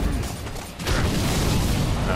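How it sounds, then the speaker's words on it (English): A dense, sustained roar of explosions from Sekiro swells after a brief dip and continues as loud, continuous rumbling with a broad, washing texture. "Ah, explosions."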